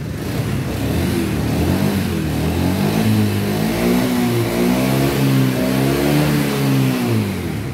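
A motorcycle with a rough starter motor cranks and turns over in a loud, continuous mechanical whir with a revving engine tone, heard close with no voices.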